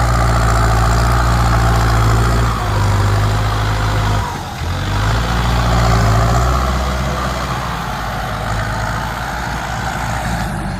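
A Kubota M6240SUH tractor engine idles nearby: a loud, steady diesel rumble with a deep throb and slight shifts in pitch, with no talking.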